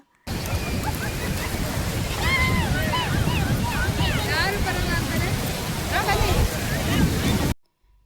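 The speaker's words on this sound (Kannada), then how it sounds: "ನೋಡಿ ಸಮುದ್ರದ ಹತ್ರ ಬಂದಿದ್ದೀವಿ ಎಲ್ಲರೂ" Sea waves roll onto Velankanni beach in Tamil Nadu, making a steady, loud, broadband roar of surf with wind buffeting. Distant voices and children's shouts rise faintly over the wash.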